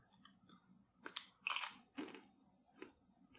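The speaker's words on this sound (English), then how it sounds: "as you start chewing on the berries towards the end, you get that blueberry flavor" Someone chews homemade pemmican mixed with blueberries, giving a few soft, close crunching bites with quiet pauses between them.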